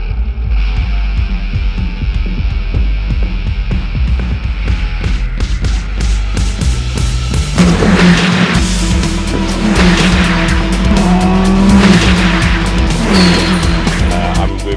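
Praga race cars lap during qualifying at Snetterton, engines droning and revving as cars pass, with a louder, closer surge of engine noise and tire squeal in the second half.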